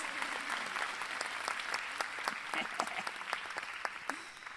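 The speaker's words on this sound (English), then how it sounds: "Give a round of applause to that college student" Audience applause at a women's leadership conference, a steady wash of many hands clapping with a few louder individual claps standing out, while a voice talks faintly underneath.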